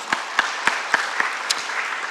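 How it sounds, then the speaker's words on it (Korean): Hands clap in a steady, evenly spaced beat at a church prayer service, about six crisp claps over two seconds at moderate distance, followed by a fainter trailing clap. "하나님께 영광의 박수 돌리겠습니다"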